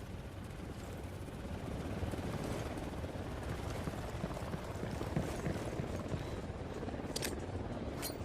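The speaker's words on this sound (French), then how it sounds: "Hélico de l'unidad en approche." A helicopter approaching in the Ghost Recon Wildlands video game, a steady, dense rotor wash that rumbles at moderate volume throughout, with a few brief sharp clicks near the end and no speech.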